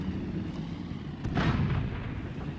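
A heavy tank cannon firing in World of Tanks: one deep, booming shot at about 1.3 seconds over a constant low rumble, with a rolling low-end tail after it.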